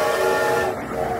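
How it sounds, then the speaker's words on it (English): A loud, sustained train whistle blast sounding over the rumble of a moving train, close and continuous. "The Polar Express let out a loud blast from its whistle"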